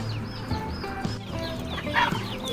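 Poultry-farm chickens peck at feed mixed with neem leaves, giving off soft overlapping clucks and short chirpy calls close by over a low background murmur.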